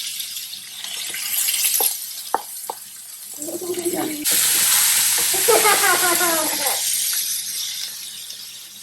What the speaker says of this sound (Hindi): इसमें डाल दिया। अब इसको हम इसमें हल्का सा फ्राई करेंगे